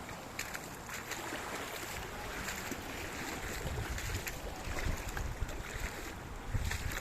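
Sea waves heard from the shore near coconut trees, a broad washing surf with wind gusting across the microphone, steady with slight swells toward the end.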